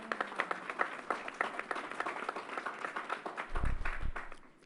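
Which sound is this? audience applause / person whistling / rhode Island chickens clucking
audience applause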